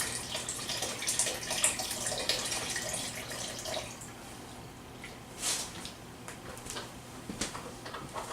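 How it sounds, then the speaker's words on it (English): Beef stock being poured into a pot, a soft watery splashing with drips that is stronger early and then thins to a quiet trickle, close by with no voices. "I'm going to add about a quart of the beef stock."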